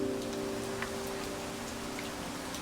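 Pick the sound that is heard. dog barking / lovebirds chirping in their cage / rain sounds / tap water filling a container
rain sounds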